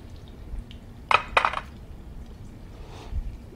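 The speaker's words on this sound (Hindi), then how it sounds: "वन स्पून बटर डालेंगे इसमें।" Spoonful of butter dropped into a cooking pan for tandoori butter chicken masala, heard as a brief soft plop and clatter of the spoon against the pan amid low kitchen background noise.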